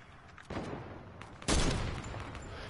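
Gunshots in a video game: a burst of shots, then a louder close volley whose echo rings out and slowly fades, with no talk.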